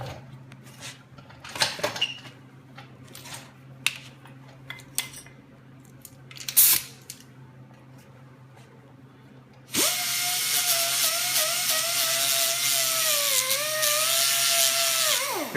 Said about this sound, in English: So I'm just going to grind these.